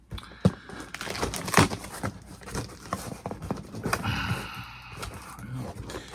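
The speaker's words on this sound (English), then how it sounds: "So we're going to carefully cut it open." A mail package is cut open carefully at close range, giving crinkling, tearing and scraping of cardboard and wrapping in uneven bursts, with faint background voices.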